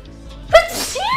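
A girl lets out a single sharp, close sneeze, a quick inhaled buildup followed by a loud explosive burst and a brief airy tail.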